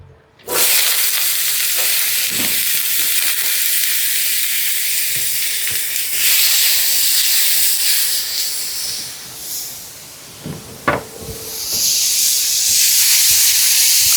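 Vegetables and seasonings sizzle loudly in olive oil in a pan for paella, a dense steady hiss that swells and fades slightly, with occasional stirring clatter and brief pops, close up and without talk.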